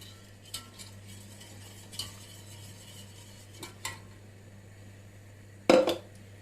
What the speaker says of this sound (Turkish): Kaynayıncaya kadar karıştırıyoruz.